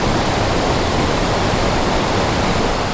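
The Kanur (Devkar) waterfall in the Western Ghats near Yellapur roars as a loud, constant broadband rush of falling water, steady and unbroken with no voices.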